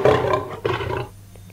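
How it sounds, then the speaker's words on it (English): A lion roars loudly in one long, rough, throaty call that rises sharply partway through, then fades into quieter low rumbling near the end. "L-I-O-N, lion."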